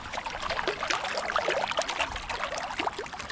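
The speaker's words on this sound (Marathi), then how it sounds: "बघा पाणी बघ असं जमिनीतनं वर येत" Water wells up from the ground in a flooded rice field, bubbling and trickling in a busy, continuous splashing gurgle nearby.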